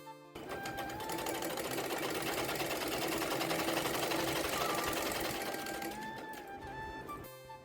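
Home sewing machine stitching clothes runs in one steady, loud, rapid mechanical whir for several seconds, then slows and stops, heard up close with no talking over it.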